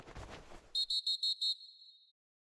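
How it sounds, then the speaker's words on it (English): Referee whistle in the eFootball 2026 video game signalling a foul: four or five short, sharp, evenly spaced shrill blasts ending in a longer held tone, following a burst of crowd and commentary noise. "Oh, that's a foul, and the whistle's gone."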